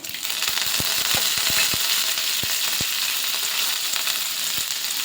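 Curry leaves and dried red chillies splutter in hot oil for capsicum rice, with a loud, continuous sizzle and a burst of sharp crackling pops that thins out later.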